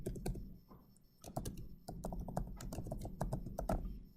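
Computer keyboard being typed on up close while entering code, a quick irregular run of crisp key taps with short pauses, no talking.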